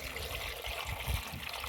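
Water trickles and splashes steadily into a cooking pot in a home kitchen while a Kenyan family meal is prepared, a continuous close pour with no pauses.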